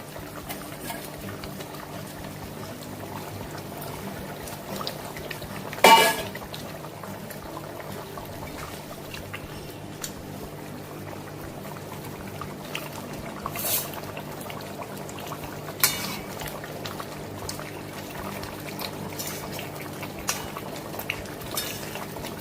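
A pot of pabda fish curry with potatoes simmers on a gas stove, giving a low, steady bubbling hiss with a few scattered soft clinks and taps.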